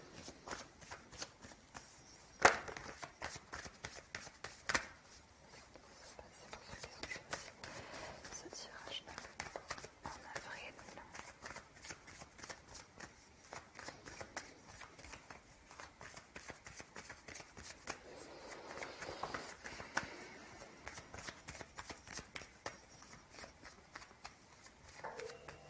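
Fairy Lenormand cards are shuffled nearby in a long, steady stream of soft papery rustles and slaps, with a faint, quiet voice murmuring underneath.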